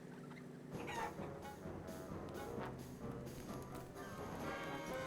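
Chickens cluck and squawk in the Wallace & Gromit's Grand Adventures video game, a dense flurry of fowl calls over a steady background of game sound, fairly close and continuous.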